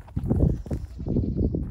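Goats bleat on an off-grid homestead from a quickly built, cramped enclosure. The bleats come as a rapid run of loud, close, rough calls, one after another.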